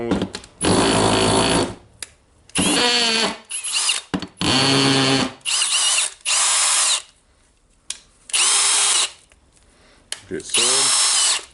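In hammer mode, a Milwaukee M18 BLPD cordless drill runs in repeated loud, buzzing bursts with a rattling edge, stopping and starting several times at close range.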